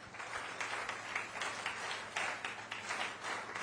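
Audience applause welcoming the chief minister at a government unemployment allowance scheme event, a faint, distant, steady patter of clapping with a low hum underneath.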